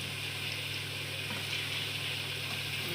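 Potato french fries frying in hot oil: a steady, close, unbroken sizzle and bubbling hiss throughout, with no voices.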